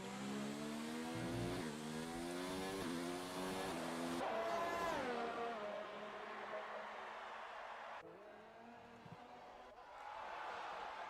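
Race car engine screaming through a flying lap in a PC racing game, rising gear by gear in repeated climbing whines, loud and close, with a brief tire squeal and a shift to a lower drone near the end.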